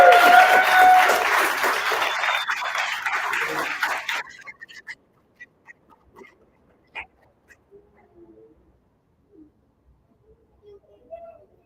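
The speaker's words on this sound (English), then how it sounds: "I'm about to round the applause for everybody." An audience at a showcase event gives loud, dense applause for about four seconds, then it cuts off abruptly, leaving only a few faint scattered sounds in a quiet room.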